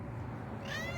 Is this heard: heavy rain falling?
no